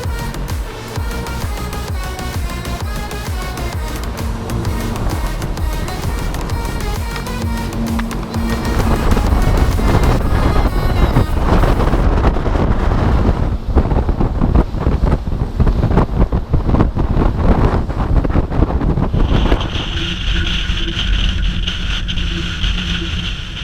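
A motorboat runs at full throttle across an open Swedish fjord, a steady loud engine roar mixed with wind buffeting the microphone and water rushing past the hull, the pitch shifting and intensifying partway through.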